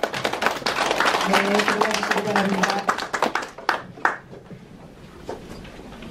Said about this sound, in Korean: 다시 한번 축하 박수 보내드리면서 신입회원님들 인사!